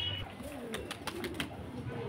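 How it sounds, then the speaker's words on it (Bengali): Bajir payra tumbler pigeons coo in a loft, several soft rolling coos layered together under light scattered chirps and flutters, fairly close. "দেখুন কত সুন্দর সুন্দর বাজির পায়রা"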